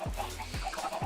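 Video game chickens cluck in Minecraft, several clipped calls coming in a quick, evenly spaced rhythm, near and moderately loud, with no voices.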